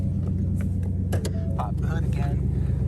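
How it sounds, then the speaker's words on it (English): A Ford Mustang S550 with ported intake manifold and cold air intake idling in neutral, a steady loud low engine hum filling the background while someone talks over it. "turn on the car, make sure she's in neutral so we can get out real quick."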